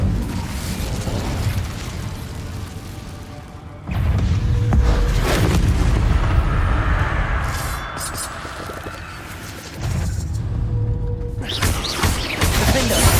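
Incendio fire spells tear through a fight in the video game Hogwarts Legacy, with loud roaring bursts of flame swelling and dropping in waves, and rumbling impacts between them.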